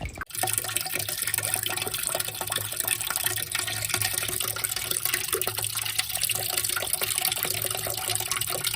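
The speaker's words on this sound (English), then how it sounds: "Hold on, let me wash them." Tap water runs steadily over crab claws being washed outdoors, a constant rushing splash close by with faint handling noises and no speech.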